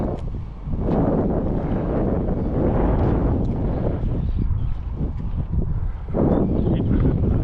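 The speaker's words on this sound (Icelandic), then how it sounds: "kom smá gjóla" Steady wind buffets the microphone in a continuous rumbling roar, with gusts swelling and easing over several seconds.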